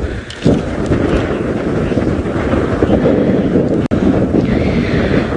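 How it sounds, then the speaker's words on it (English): Strong wind gusts buffet the microphone on an open safari drive by the Mara River, a loud, continuous low roar with rumbling surges and one sharp dropout near the end. "The wind is now gusting"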